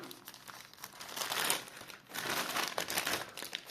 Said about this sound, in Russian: Так, відкриваємо спочатку менший пакет.